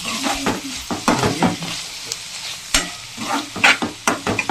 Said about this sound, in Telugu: ఫైనల్గా కొత్తిమీర వేసి కలిపేసుకుందాం